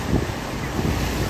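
Sea waves washing against an island shore, a steady broadband rush mixed with wind buffeting the microphone, continuous and fairly loud with no talking.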